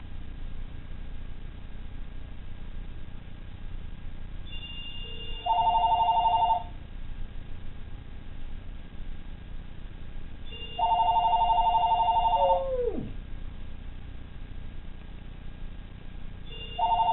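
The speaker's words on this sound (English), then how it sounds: "watch what happens when the phone rings" A house telephone rings in two-part electronic bursts, three rings spaced several seconds apart, clear and fairly close in a quiet room, with a brief rising-and-falling animal whine after the second ring.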